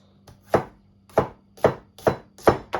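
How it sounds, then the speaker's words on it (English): Knife chopping garlic cloves on a cutting board for a Jamaican jerk marinade, five distinct, evenly spaced chops, close and crisp with quiet between strikes. "Garlic. I'm just gonna chop these."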